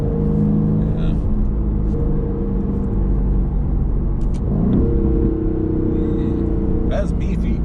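Aston Martin Vantage engine and exhaust with its baffles open, a loud continuous rumble with a rising rev sweep midway and another lift near the end, heard from inside the car with voices talking over it.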